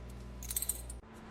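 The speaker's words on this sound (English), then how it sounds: "Here, take these lousy coins." Coins handed over, with a brief cluster of light, bright metallic clinks over a steady low hum before the sound cuts off.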